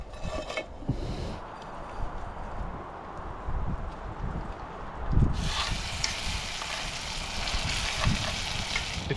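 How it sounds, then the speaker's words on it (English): Mussel meat frying lightly in olive oil in a pan, a steady soft sizzle outdoors on a rugged coastline, swelling louder and brighter partway through with a few faint knocks. "I'm gonna put a little bit of olive oil, put it on the pan, and then just lightly fry them"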